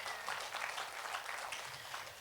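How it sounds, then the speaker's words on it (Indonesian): A church congregation claps briefly during a sermon, a soft, dense patter of many hands heard from a distance. "Berikan tepuk tangan bagi Tuhan."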